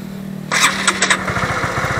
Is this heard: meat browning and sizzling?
no